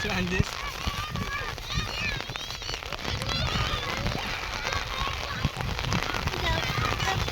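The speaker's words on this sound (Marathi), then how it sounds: "या पावसाचा आनंद घेत आहे" Monsoon rain falls during an outdoor picnic in the Konkan countryside, a steady close patter on surfaces that runs the whole time, with voices in the background.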